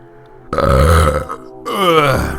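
A loud, long burp rolls out close to the mic, breaks briefly, then returns as a second drawn-out belch.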